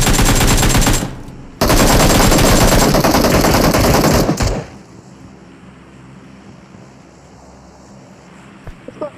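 Rapid automatic gunfire in a PUBG-style battle royale game pours out in two long, loud, dense bursts split by a brief gap, then gives way to quieter background ambience with a few faint pops.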